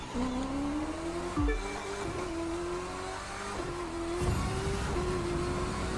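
Race car engine in The Crew 2 racing game holding a steady high-pitched drone at full speed with nitro, pitch climbing slowly, with brief thumps and a short tire-like scrape partway through.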